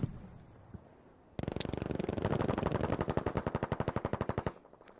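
Rapid automatic gunfire from a competitive shooter video game match, a loud sustained burst of evenly spaced shots that fires steadily for about three seconds, then stops abruptly.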